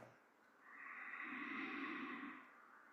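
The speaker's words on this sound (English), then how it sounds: "while creating a very gentle whispering sound that you can listen to" Ujjayi yoga breathing, drawn softly through a narrowed throat, makes one slow, gentle whispering rush that swells and fades over a few seconds, quiet and close with no talk.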